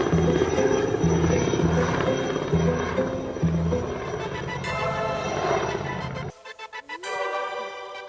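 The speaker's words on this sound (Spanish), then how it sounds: "Hay un helicóptero pasando, ¿será que está verificando la situación en la ciudad?" A helicopter passes over a city, its pulsing rotor thump loud and steady at first, then fading and shifting as it moves away while other sounds break in near the end.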